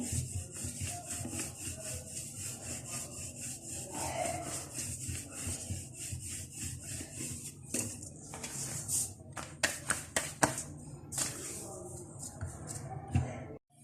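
A wooden rolling pin rolls out a large flour-dusted paratha dough on a board, giving repeated rubbing, scraping strokes close up, ending in a run of sharper taps and knocks.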